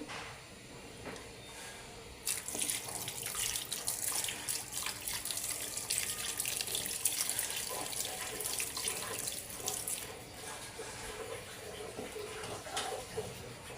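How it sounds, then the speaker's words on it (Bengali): Running tap water pours steadily over mangoes being washed in a sink, a broad hiss that starts abruptly after a quiet moment and continues close and fairly loud, with small splashes and drips throughout. "আমগুলো এখন ধুয়ে রাখবো"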